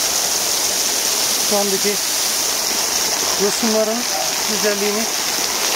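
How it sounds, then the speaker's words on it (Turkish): Güney Waterfall in Denizli roars as a constant, loud rush of falling water heard from right beneath the falls, with someone talking over it. "Şelalenin altına geldik."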